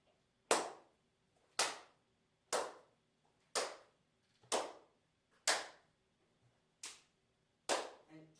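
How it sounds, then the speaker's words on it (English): Eight sharp, loud hand claps ring out one at a time at a steady pace of about one per second as they move around a room, captured on an Ambisonics microphone, each with a short decaying tail and no talking. "Continue clapping and go around the room."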